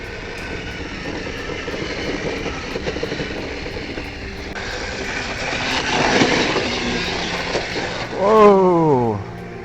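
A Kyosho Blizzard brushless 3S RC snow vehicle drives, its electric motor giving a buzzing whine that builds and then sweeps sharply up and down in pitch near the end.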